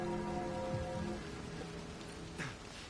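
Rain falls in the Arknights: Endfield game, a soft, steady wash of droplets on surfaces with faint tonal game sounds underneath and a couple of brief splashy accents, fairly quiet and without speech.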